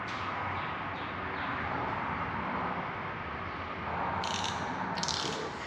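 A ratchet turns while bolts are tightened on a 2013-2014 Ford F-150 3.5 EcoBoost engine during a build, giving a continuous close clicking rasp with a couple of brighter metallic bursts near the end.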